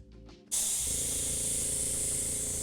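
An airbrush spraying green paint: after a short quiet moment, a loud, steady close-up hiss starts abruptly and continues without a break.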